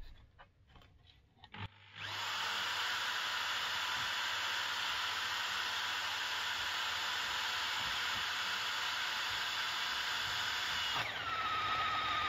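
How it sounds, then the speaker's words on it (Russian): A drill bores through a wooden block with a new drill bit, starting after a few faint taps and then whirring steadily and loudly for about nine seconds before a brief change in pitch near the end. "Ну что, начинаем сверлить"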